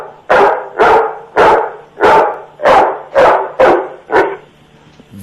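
A man imitates a hungry German Shepherd barking, seven loud, evenly spaced gruff barks delivered close up, followed by a brief quiet moment.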